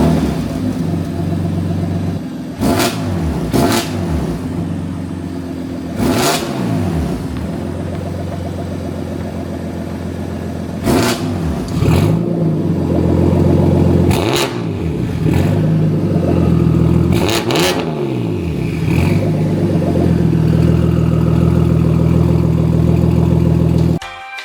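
BMW F80 M3 engine through a clone valvetronic exhaust on a temporary pipe: a steady rumbling idle, loud and close, punctuated by about seven sharp throttle blips that rise and fall back, with no voices.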